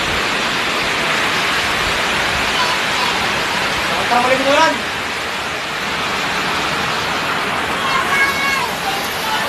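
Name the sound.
heavy rain falling in the Philippines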